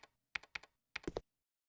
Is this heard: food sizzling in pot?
no